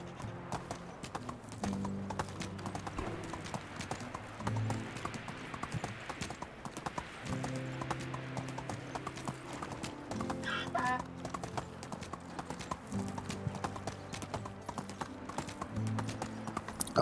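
Horse hooves clip-clop in a steady rhythmic trot in a video game, close and continuous over faint background music and ambient farm sounds, with a brief whinny midway.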